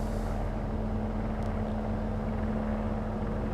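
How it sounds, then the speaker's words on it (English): Helicopter droning somewhere overhead in the Train Simulator Classic game, a steady low rotor hum that holds constant and fairly prominent with no talking. "I can hear a helicopter"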